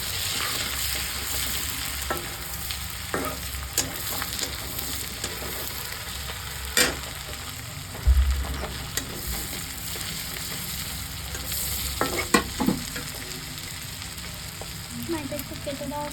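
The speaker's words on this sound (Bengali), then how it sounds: "দিয়ে ভালো করে পেঁয়াজটা লাল লাল করে ভাজবো" Onions fry with spices in a pan until reddish brown, a continuous close sizzle broken by repeated sharp scrapes and knocks of a spatula stirring at irregular intervals, with no talking.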